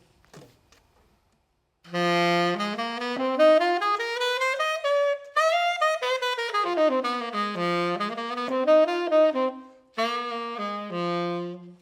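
A single melodic instrument plays a blues scale steadily upward and back down, then climbs again, each note distinct and clear with no talking.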